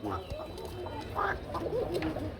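Fancy pigeons of a deep red breed call close by, with several throaty rolling coos and warbles rising and falling over a low background murmur, a voice faintly present beneath them.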